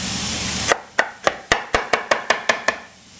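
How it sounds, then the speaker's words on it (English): A knife chops vegetables for a Greek salad on a board, about ten crisp, evenly paced cuts that ring out close and clear after a brief noisy opening. "Cut it in half, and if you want, some people they cut it as chunks."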